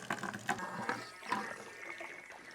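Small hand-operated pump fitted to a gas can pushing water out: intermittent splashing and gurgling spurts with a few soft clunks, close and fairly quiet, no voices.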